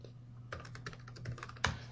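Computer keyboard keys tapped in short bursts while a username and password are entered, close and fairly quiet, with an irregular rhythm and one sharper keystroke near the end.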